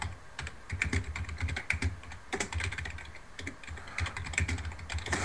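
Fingers type on a computer keyboard in quick, uneven bursts of clicking keystrokes, close and fairly faint against a low background hum, with no talk.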